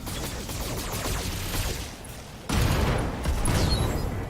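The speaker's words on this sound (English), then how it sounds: "Fire. Make me proud. All weapons." Battle mech in BattleTech unloading all its weapons at once, a dense rolling volley of gunfire and booms that surges again midway, loud and continuous with no talking over it.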